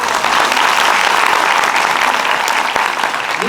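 A conference audience claps at an education talk, a dense and even wash of applause that holds steady for a few seconds before easing slightly.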